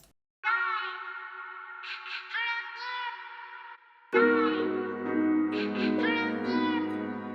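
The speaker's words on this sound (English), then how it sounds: "I'm gonna add a reverb to that with a long decay." A tonal synth phrase plays dry, then repeats with a long reverb tail that washes out the notes and lingers, echoing and spacious.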